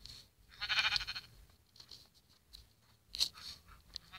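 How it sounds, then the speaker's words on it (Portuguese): Sheep bleat in two brief, faint bursts a few seconds apart, with quiet rustling and crunching between them and no voices. "de onde que tá vindo essas ovelhas"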